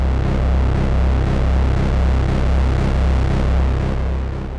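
Yamaha CS70M analog synthesizer with custom mods, ring modulation routed to pulse width modulation, giving a loud, dense, buzzing sustained tone with a steady pulsing low-end throb throughout, no talking.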